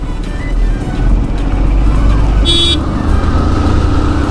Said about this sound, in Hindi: ये देखो बस जा रही है